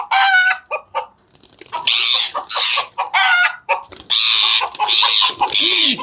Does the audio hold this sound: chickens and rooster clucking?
yes